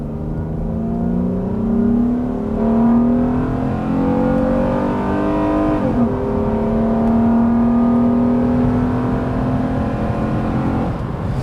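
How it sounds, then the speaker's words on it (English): A second-generation Acura TL's J32 V6 pulls hard under acceleration, its loud, close engine note climbing in pitch, dropping briefly at a shift around midway, then rising again in a steady drone. "Now we can get on the power here."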